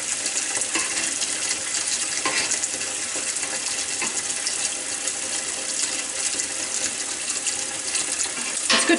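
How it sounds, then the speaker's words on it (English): Tap water runs steadily into a sink during home cheesemaking with raw cow's milk for Manchego, a continuous broadband splashing rush held at an even level throughout, close and alone without talk. "Good to have lots of water when you're making cheese."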